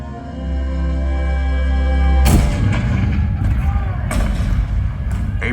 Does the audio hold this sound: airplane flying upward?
no